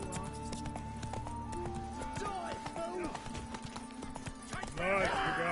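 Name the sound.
Roach the horse trotting, from video game The Witcher 3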